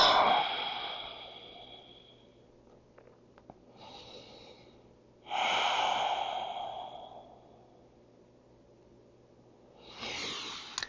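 Slow, deep breaths during a beginner yoga stretch with blocks and straps: three or four long, soft exhales separated by quiet pauses, close and fairly loud, with no talking.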